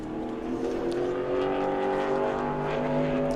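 A Pro Late Model race car runs a qualifying lap at New Smyrna Speedway, its engine a steady, droning roar held at a constant pitch and moderately distant, with no talk over it.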